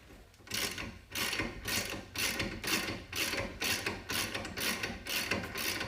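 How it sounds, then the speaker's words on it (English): A hand ratchet loosens the ball joint nut on a 2006 Kia Rio LX, with steady clicking in repeated bursts, each a few strokes long, heard up close and alone. "Just loosening up ball joint nut"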